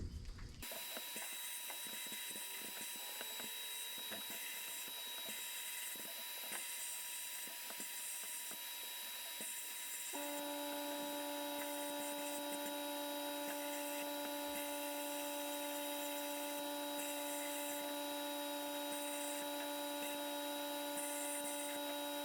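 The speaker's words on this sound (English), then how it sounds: "It's a sandblaster. It's going to get sand everywhere" Sandblaster blasting a brake caliper from a 1984 Bertone X1/9, a steady loud hiss of air and grit that shifts to a harsher, more tonal roar about halfway through, with no talking.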